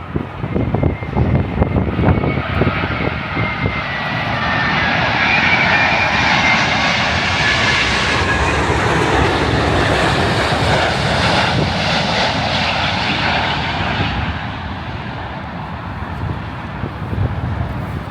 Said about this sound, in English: Got a jumbo jet coming in.